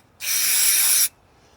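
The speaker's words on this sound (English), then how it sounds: "Go ahead and give it a spray down in there." QD electronic cleaner sprays into the bulb socket of a Dodge Ram lamp in one loud, close, steady hiss lasting just under a second, then stops abruptly.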